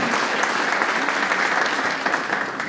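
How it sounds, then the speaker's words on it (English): A crowd at a Veterans Day ceremony giving a round of applause for a school, a loud, continuous patter of many hands that stays strong from start to finish. "a round of applause to them and all the school and everyone"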